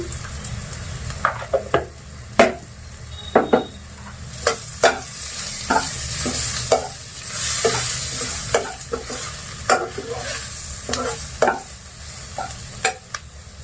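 Pipul greens with chapila fish and shrimp, turmeric and chili powder sizzle steadily in a pan while a spoon stirs and scrapes repeatedly, sharp clacks punctuating the continuous frying hiss, close and fairly loud.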